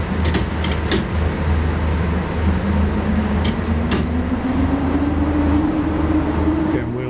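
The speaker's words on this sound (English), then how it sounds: "Am I just wheel spinning?" A train in the SimRail driving game roars and rumbles steadily as its wheels slip and spin, with a rising whine building underneath the noise.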